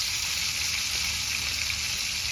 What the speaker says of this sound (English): And then we're gonna get some butter going on it.